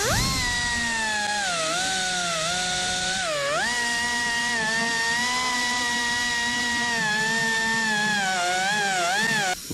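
A die grinder reaming out a car dashboard, a loud, close high-pitched whine that holds steady with brief dips in speed as the bit bites into the material, running continuously throughout.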